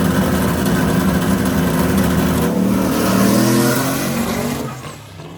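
A zero-emissions 1957 Chevy launches hard off the line, a loud, close, steady drivetrain roar with tires breaking loose, then the sound drops away near the end.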